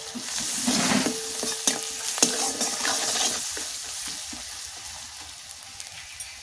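Onion and spices with salt, turmeric and chilli powder sizzle in hot oil in a pan for a mustard fish curry, a steady frying hiss broken by a few scraping stirs, close and without voices.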